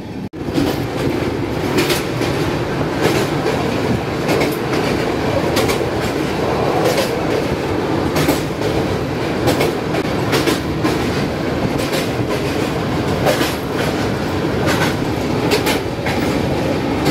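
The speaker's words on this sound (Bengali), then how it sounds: "যেহেতু ট্রেন লেট করে ঢুকেছে তাই ট্রেন এখানে স্টপেজ মানলো না, জাস্ট 1 মিনিট দাঁড়িয়ে ট্রেন ছেড়ে দিল" The Puri–Howrah Shatabdi Express (12278) pulls away after a brief one-minute halt and runs at speed, a steady loud rumble with continuous rhythmic clickety-clack from the wheels and occasional sharper rail clanks, heard from on board with no talking.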